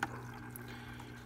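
Water flowing through the cooling loop of a running Tuxing PCP high-pressure air compressor, a faint steady trickle over a low motor hum, with one small bump at the start.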